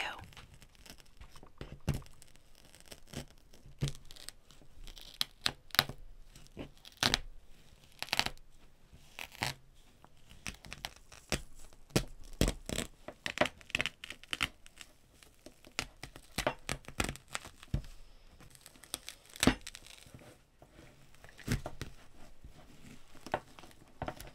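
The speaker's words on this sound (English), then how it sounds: "Now a little wig removal ASMR for you." An American Girl doll's wig being peeled off its head, giving close, quiet crackling, tearing and crinkling sounds in quick irregular bursts throughout.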